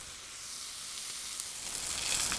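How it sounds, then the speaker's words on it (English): Prime ribeye steaks searing on an SNS plancha set on a kettle grill, a steady, moderate sizzle that grows slightly louder near the end. "I was expecting a little more sizzle when I dropped these on."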